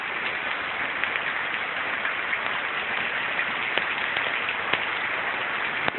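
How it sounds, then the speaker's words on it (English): Steady rain pours down outdoors in California during the first rain of the season, a dense, even hiss with occasional sharper drop taps, continuous and fairly close throughout. "I'm already getting rained on."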